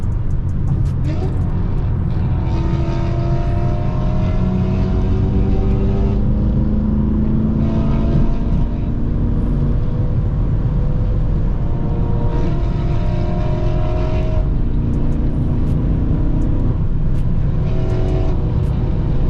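A BMW M6 cruises along a road in a group of other BMW M cars, its engine droning steadily with rising and falling pitch as it shifts and accelerates, a constant loud cabin roar throughout.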